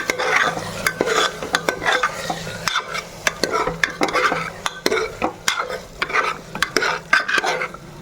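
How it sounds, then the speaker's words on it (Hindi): Potato and pea curry being stirred in a pan, with rhythmic scraping strokes of a spoon against the metal and a soft frying sizzle underneath, close and steady. "मटर भी डाल दिए हैं, मिक्स कर देते हैं पूरी सब्जी को।"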